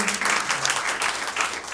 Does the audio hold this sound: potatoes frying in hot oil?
no